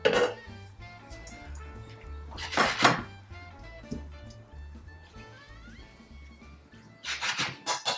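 Clams and spaghetti going into a metal pan for vongole spaghetti, with several sharp clattering clinks of shells against the pan and utensils, close and bright, separated by quieter sizzling.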